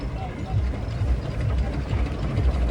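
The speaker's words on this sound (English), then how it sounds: "Louise, the Clayton and Shuttleworth engine." A Clayton and Shuttleworth steam traction engine, a general purpose engine, runs at an outdoor steam and traction engine rally, with a steady low mechanical chugging and clanking close by. Voices can be heard faintly in the background.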